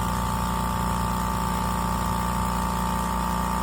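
A Limodot quiet air compressor with twin pistons and a 5-gallon steel tank runs steadily while building pressure, a constant low mechanical drone and hum with a fine rapid pulse, unbroken throughout.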